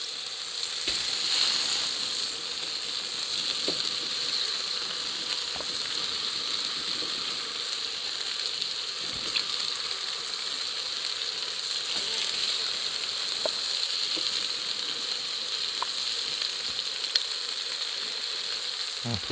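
Chicken wing pieces with bone and skin fry in a pan for a country-style paella, giving a loud, steady hiss of sizzling oil with a few faint clicks, close and unbroken, with no talking.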